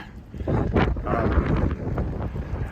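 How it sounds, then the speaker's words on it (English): Wind buffets the microphone outdoors on a breezy day, with gusty, rumbling blasts that rise and fall across a few seconds. "It's breezy out here today."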